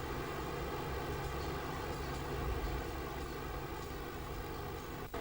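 A 1989 E.C.T. straddle carrier's engine running after a restart, a loud, steady diesel rumble with broadband mechanical noise held continuously throughout, no voices.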